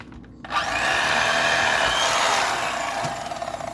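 A knife slices off a large bass fillet close up. A sustained rasping cut starts abruptly and runs for about three seconds, then fades.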